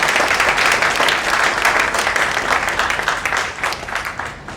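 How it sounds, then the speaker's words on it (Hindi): Loud, dense applause from a large crowd at a Hindi-speaking organisational gathering, a sustained wall of clapping that slowly tapers off over several seconds. "इनके लिए भी तालियां होनी चाहिए"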